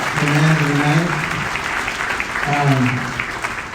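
Audience applause for Dr. J at an awards ceremony, loud sustained clapping through the whole stretch with a voice speaking over it at the start and again near the end.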